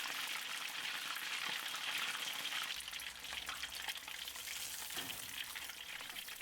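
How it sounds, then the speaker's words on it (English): Chicken drumsticks deep frying in hot oil on high heat for Thai fast-food fried chicken, a steady dense sizzle and crackle throughout, close and fairly loud, with no talking. "Fry the drumsticks for 2 minutes,"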